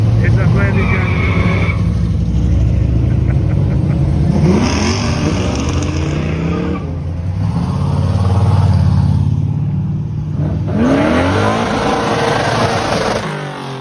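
A car engine at a rat rod rally and burnout contest, loud and sustained with repeated rising revs and roars, people talking underneath.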